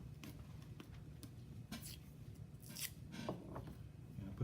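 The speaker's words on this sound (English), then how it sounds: "I'm going to take a little piece of blue tape." Blue tape is torn off in a quiet, close series of soft rips and crinkles, with brief scratchy strips and light handling noise and no voices.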